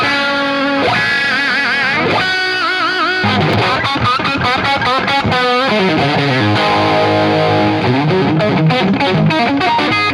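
Electric guitar played through a small Marshall amp with a crunchy distorted tone, a busy run of sustained notes, bends and quick picked phrases, close and loud with no talking.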